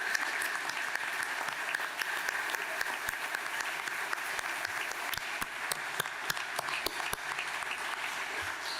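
A crowd at a regional culture awards gala applauds the finalists, dense continuous clapping with sharp individual claps standing out, sustained and fairly loud for the whole stretch.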